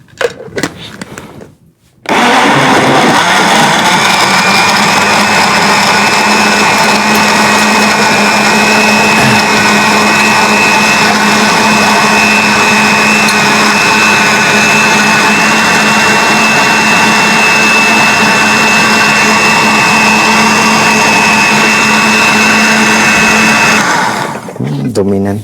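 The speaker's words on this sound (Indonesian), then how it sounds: "Kita blender." An electric blender whirs loudly and steadily for over twenty seconds, blending honey, green melon, avocado and cucumber, starting after a brief pause and winding down at the end, with voices at the start.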